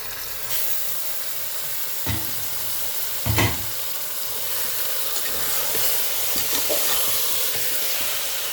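Chicken pieces and potatoes sizzle and fry in a pan for an Irani-style chicken curry, a steady hiss of oil with a few sharp clatters of stirring, close and alone.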